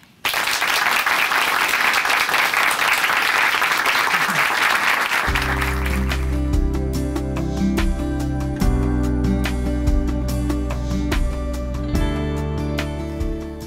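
A church congregation applauds to welcome someone speaker from Chuncheon Hanmaum Church. Dense clapping fills the first five seconds, then music enters and carries on loudly while the clapping fades beneath it.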